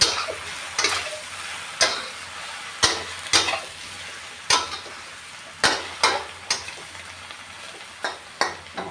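Luffa gourd stir-fried in a pan, with a faint sizzle under regular sharp clicks and taps of a spatula against the pan, close and unhurried.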